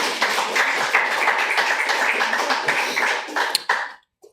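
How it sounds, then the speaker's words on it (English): An audience at an Arabic poetry-in-translation reading applauds a poet with a dense patter of claps that holds steady for several seconds, then thins to a few last claps and falls silent. "let's continue the applause for Maya Salameh."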